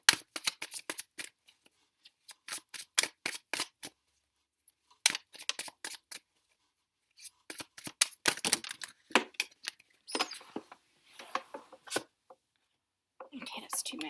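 Tarot cards being shuffled close up in quiet bursts of rapid crisp riffling and flicking, separated by silent pauses, with occasional soft speech.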